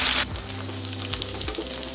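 Butter with sage and nutmeg sizzles in a frying pan during a quick stir while making potato dumplings, a steady close crackle with soft scraping movements.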